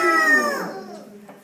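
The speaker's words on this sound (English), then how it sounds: "A rooster says cock-a-doodle-doo." A single rooster crow rings out close and clear, a drawn-out call that falls in pitch and fades quickly.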